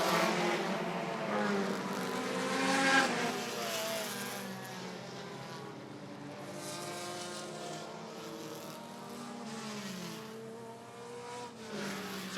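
Race cars in a Midwest Dash Series feature at Rockford Speedway roar past on the last lap, a continuous engine drone with pitch swells as the pack passes, heard at moderate distance.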